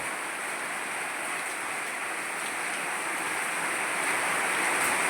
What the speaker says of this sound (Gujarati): હજી તો ચાલુ જ છે વરસાદ વરસવાનું, ફૂલ વરસાદ વરસે છે